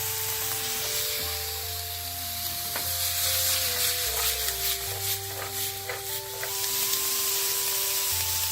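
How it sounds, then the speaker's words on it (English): Onion, carrots, celery, mushrooms and garlic sauté in coconut oil with a steady sizzle and stirring scrapes, close by, over soft background music. "Add in carrots, celery, mushrooms, and garlic. Sauté for an additional 2 minutes"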